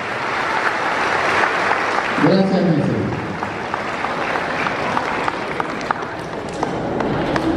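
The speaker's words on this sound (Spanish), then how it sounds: "Brindémosle un fuerte aplauso, por favor." An audience applauds at a school ceremony, a broad, steady wash of clapping that lasts throughout, with a brief spoken voice heard over it.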